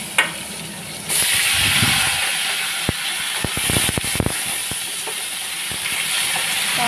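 Five-spice tempering sizzles in a hot wok as the base for a fish curry, a loud steady hiss with scattered sharp pops and crackles running through it.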